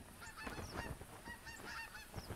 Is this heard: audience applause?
no